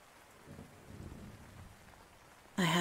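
Soft rain falls with a faint, steady hiss and a few gentle swells, then a brief louder burst cuts in at the very end.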